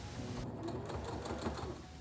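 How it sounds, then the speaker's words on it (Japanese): A sewing machine runs steadily as it stitches a striped ruffle onto a fabric base, its rapid needle chatter close and continuous with no talking. "先ほど縫ったストライプのフリルをミシンで縫い付けていきます。"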